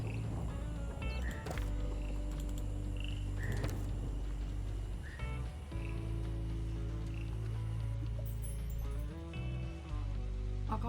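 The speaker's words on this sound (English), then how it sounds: "Weather report. It's raining frogs." Frogs croak repeatedly during a frog-rain weather event in the management video game Two Point Campus, with scattered croaks over a steady low in-game background and no talking.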